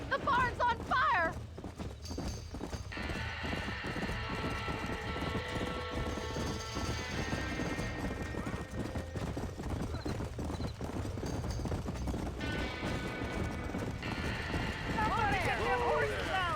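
Horses trapped in a burning barn in the video game Red Dead Redemption, hooves clopping and panicked neighs and whinnies rising over a tense crackling backdrop, with shouting voices throughout.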